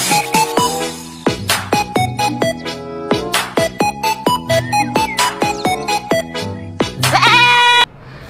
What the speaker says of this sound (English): And next, guys, sheep.